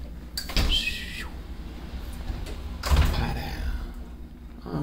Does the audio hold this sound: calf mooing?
no